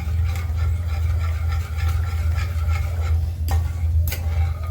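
Sugar and water are stirred in a pan while making the Gujarati sweet Mohanthal. A spoon scrapes and taps in a steady rhythm over a constant low hum, with a couple of sharper clinks near the end.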